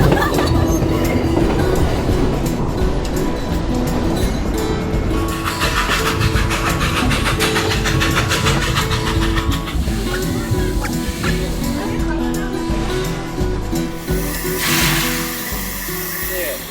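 A steam train rumbling along the rails with rhythmic clatter and occasional metallic squeals, loud and continuous, while people talk and birds call nearby.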